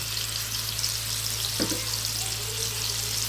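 Dried fish frying in a pan for a lunch with drumstick curry, a steady broadband sizzle with a brief scrape of handling in the middle, no voices.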